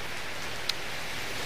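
Steady rain hisses evenly throughout, with a single faint drop-like tick standing out briefly near the middle.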